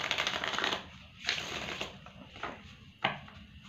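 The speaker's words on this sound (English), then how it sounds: "Let me just shuffle this for you." Rider-Waite tarot cards are shuffled by hand in several quick riffling bursts with short pauses between, close and fairly quiet, with no talking.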